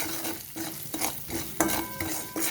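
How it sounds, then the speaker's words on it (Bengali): Pointed gourd, potato and ground spices stirred in a frying pan with a utensil, giving a steady sizzle broken by repeated scraping strokes, close and fairly loud with no talking. "এবারে আমি ফোড়নটা একটু নেড়ে চেড়ে নেব।"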